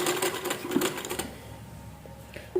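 A sewing machine stitches curtain fabric at home in a quick buzzing run of needle strokes that stops after about a second, followed by quiet room noise and a faint click.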